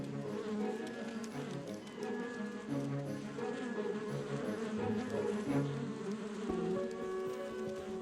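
Honeybees inside a hive at a returning forager's waggle dance, a dense continuous buzzing drone of many bees, close and steady throughout with no voices.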